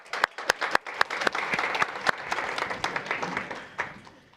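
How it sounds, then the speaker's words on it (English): Luncheon audience applauding a guest at a fireside chat, starting with a few distinct loud claps in a rhythmic pattern and filling into a dense round of clapping that gradually thins out. "Can we give another round of applause to Dr."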